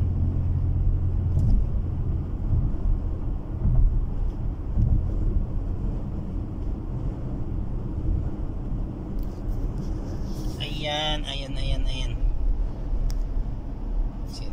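A new car driving along a road in Saudi Arabia, with steady low engine and tyre rumble and wind noise throughout, joined near the end by a brief higher-pitched whine.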